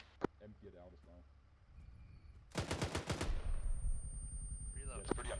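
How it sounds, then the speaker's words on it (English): An M2 heavy machine gun fires in the Arma 3 video game. A rapid burst of about a dozen loud, evenly spaced shots runs for under a second, following brief talk, with low rumble and faint voices afterwards. "Emptying the M2."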